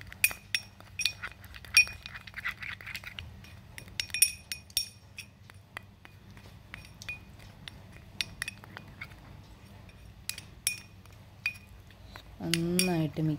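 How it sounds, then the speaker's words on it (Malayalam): A spoon clinks sharply and repeatedly against a bowl while honey is mixed into a homemade face mask, with bright, irregular taps over a quiet room; a voice briefly sounds near the end. "ഇത് നന്നായിട്ട് മിക്സ് ചെയ്യണം"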